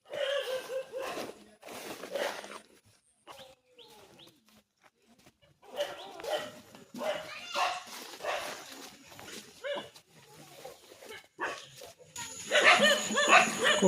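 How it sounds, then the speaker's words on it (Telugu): Several dogs bark repeatedly near a rural village house with crops grown beside it, in bursts across the clip alongside roosters and birds. "కుక్కలు అయితే అడుస్తున్నాయి ఫ్రెండ్స్."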